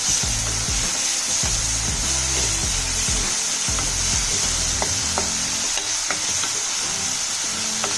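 Onions fried with ginger-garlic and tomato paste for cauliflower podimas, sizzling steadily in a pan with stirring scrapes throughout, close and fairly loud, with no talking.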